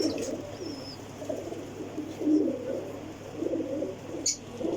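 Pigeons cooing, several birds giving soft repeated low coos at close range over a quiet background, with a brief thin chirp and a faint knock.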